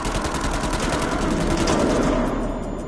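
Rapid, continuous gunfire in the horror video game Man of Medan sounds loud and dense for nearly three seconds, as a sustained burst of automatic shots with no talk over it.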